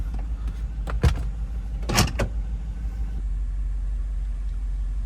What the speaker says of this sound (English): we'll take it for a little test drive